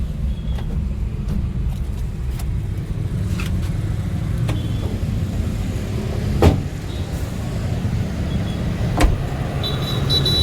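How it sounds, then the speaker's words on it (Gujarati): Electric windows on a Honda car sliding closed, a low steady motor whir with a couple of brief thumps as the glass seats, heard up close over a constant vehicle and showroom background rumble. "ગાડીના કાચ ખુલ્લા હે, બંધ કરી દઉં પછી તમને મળું"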